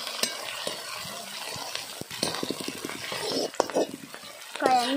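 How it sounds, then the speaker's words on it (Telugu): Onions and green chillies sizzle in a pan as a spoon stirs and clinks against the metal in quick, busy strokes, with brief speech near the end. "అన్నీ వేసుకొని అన్నీ వేగినంత వరకు అయితే మొత్తం కలుపుకున్నామండి."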